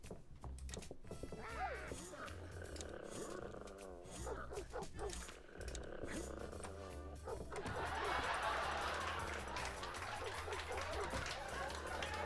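Dog in the video game Neighbours from Hell barks and growls in several short bursts, fairly close, with a louder rushing scuffle toward the end and some game noise around it.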